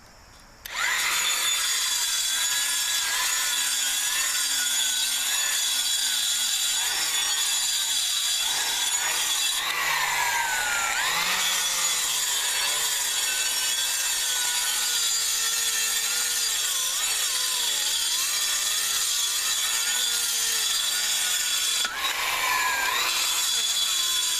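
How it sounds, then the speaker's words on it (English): A wire brush scrubs paint and grime from the groove of a pulley, a loud, continuous abrasive whirring with shifting pitch, close up, with brief pauses and no talk. "wire brush on the end of it, and I'm going to use it to clean this here pulley race right here"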